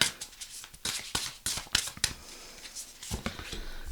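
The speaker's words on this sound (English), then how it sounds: "Now shuffle again, the same." Tarot cards are shuffled by hand in quick, close, crisp bursts of riffling and slapping, irregular and uneven in rhythm, with no speech over them.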